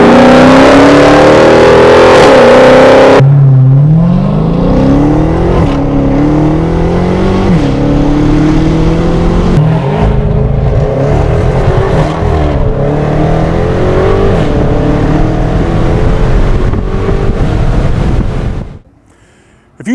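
A 2015 Dodge Charger SRT Hellcat sedan revs hard while driving, its supercharged engine rising and falling through gear changes, loud and close throughout before cutting off abruptly at the end.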